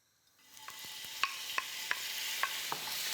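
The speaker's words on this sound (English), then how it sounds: "We just wanna sear the shrimp." Shrimp searing in a hot pan with olive oil, a steady bright sizzle that builds quickly and carries a few sharp pops and clicks as the shrimp are stirred.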